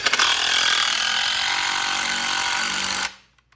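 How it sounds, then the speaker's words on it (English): A power driver whines hard and continuously, loud and close, as screws are driven into wooden spindles on a homemade wooden boat, then cuts off abruptly. "And now we're just screwing them in right now."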